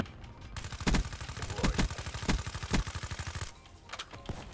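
Rapid gunfire from Black Ops 3 gameplay, including wallbang shots through cover, with loud sharp reports and fast automatic bursts in a dense, close sequence.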